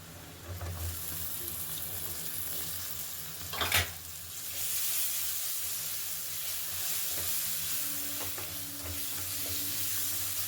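Chopped tomatoes sizzling with spices in a hot pan, a steady close hiss with a sharp burst of crackling as they go in, then an even sizzle and occasional stirring scrapes.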